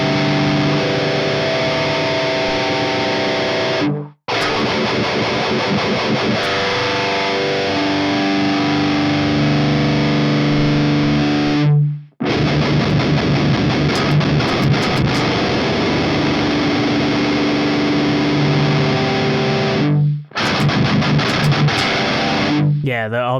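An electric guitar with Kokoboa wood plays distorted chords and riffs through an MXR 10 Band EQ pedal, loud and sustained in three long passages separated by brief silent gaps.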